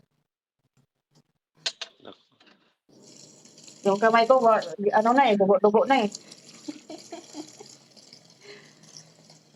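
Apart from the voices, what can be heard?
hand-washing laundry in cold running water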